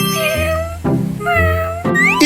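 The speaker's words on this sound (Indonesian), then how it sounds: "Kucing aku sudah besar." Cartoon cat meowing in an animated children's show, three loud, drawn-out meows in close succession with bright harmonic tones, no talking.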